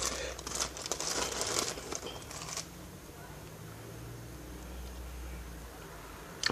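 A trim package is torn open, with plastic wrapping crinkling and rustling up close for a couple of seconds before fading to faint handling sounds.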